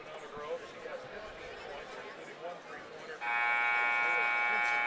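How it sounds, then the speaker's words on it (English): A loud, sustained electronic buzzer blares at a girls' high school basketball game, cutting in abruptly over steady crowd chatter in the gym and holding steadily to the end. "All right, there's the buzzer."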